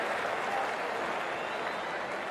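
A video-game crowd at a cricket match applauds in a steady, dense wash of clapping and cheering that holds at even loudness throughout.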